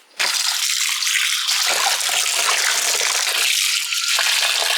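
Water runs steadily from a tap, splashing and gushing continuously over tapioca being rinsed, close and fairly loud.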